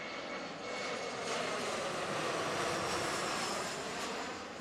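An Embraer E175 jet roars past at Seattle airport, its engine noise swelling to a steady broadband rush and then easing slightly, heard from a distance without talk.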